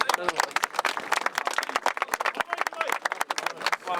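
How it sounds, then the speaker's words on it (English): Crowd applause for the referee and officials at a county minor hurling final, a dense run of claps under a speaking voice, fairly close. "So a round of applause for Pat Shelley and his officials"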